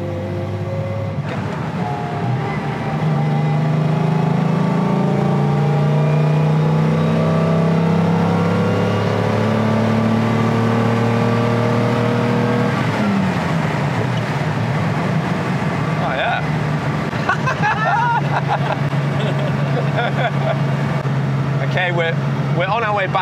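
A 1956 Mercedes 300SL Gullwing out for a drive, its engine droning steadily and loud from inside the car, rising and falling through gear changes, with a few faint voices late on.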